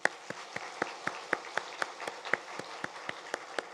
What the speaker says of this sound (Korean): 힘차게 박수로 환영하겠습니다